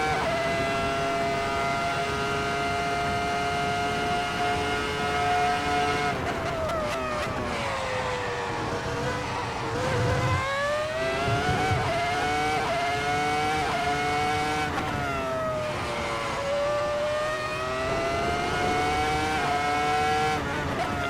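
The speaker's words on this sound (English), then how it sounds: "V10, about 950 to 980 horsepower, normally aspirated, 7-speed box, glorious sound." A Ferrari F2004 Formula One car's normally aspirated V10 of about 950 to 980 horsepower with a 7-speed gearbox, in a Kunos racing game, howls at very high revs, the pitch sweeping down and climbing back through shifts, loud and continuous with no talk.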